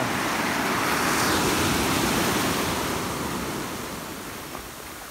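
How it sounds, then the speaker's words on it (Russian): Ocean surf at Trunk Bay in the US Virgin Islands rolls and washes up onto a sandy beach, a continuous broad roar that slowly fades as the wave recedes. "Вот она выходит волна, поднимает песок"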